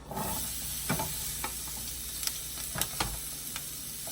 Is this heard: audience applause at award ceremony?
no